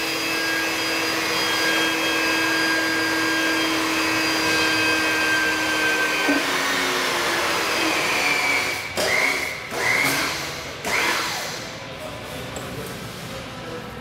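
A hydraulic pump runs with a steady, droning hum while it bumps a displacement cylinder in a synchronized lift system. Midway the tone shifts, and a few brief thumps and surges follow before the hum settles again.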